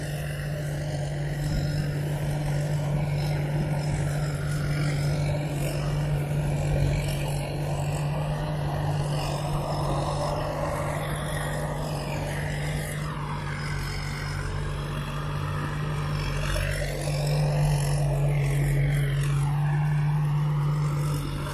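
A Pengcharoen Kan Chang combine harvester, brand new, cuts a field of Pathum fragrant rice in the dry-season crop. Its engine drones steadily and loudly throughout, with a low constant hum and rising and falling whines, and no voices.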